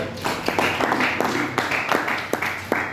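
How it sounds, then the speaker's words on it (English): A small audience claps in a loose, steady rhythm, the claps fairly close and moderately loud. "Please, can we clap for SL?"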